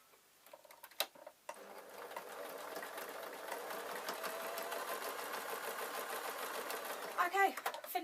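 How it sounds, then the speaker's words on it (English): A domestic sewing machine runs steadily, stitching through the layered elastic waistband of a small baby kilt, a close, even motor whir with a few clicks at the start and finish. "Now that I'm in the sewing machine, I can just sew it"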